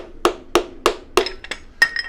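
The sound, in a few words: hammer handle tapping piston into cylinder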